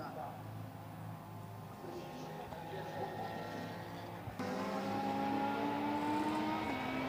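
A Porsche 991 race car circulates on track during a 24-hour endurance race at Brno, its engine a faint, distant drone that swells louder partway through beneath continuous commentary.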